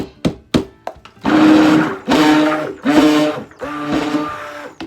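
Peach soap batter whipped fast with a stick blender: a few short bursts give way to long, loud, whirring runs that pause briefly and start again.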